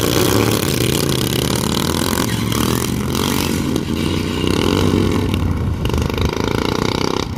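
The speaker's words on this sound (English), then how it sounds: "Gear grinder incoming." A lawn mower dragster's loud small engine roars steadily with a harsh, grinding clatter of transmission gears running through it, close by and continuous.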